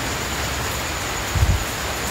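Heavy rain makes a steady, dense hiss that fills the whole moment. A brief low thump sounds about halfway through, and no one speaks over it.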